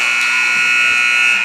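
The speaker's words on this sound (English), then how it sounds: "it may have come after the buzzer" A steady, loud electronic buzzer at the end of a high school basketball game between two school teams, sounding continuously and alone for the whole stretch.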